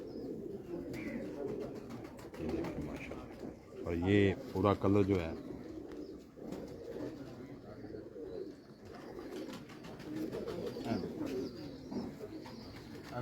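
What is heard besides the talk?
pigeons cooing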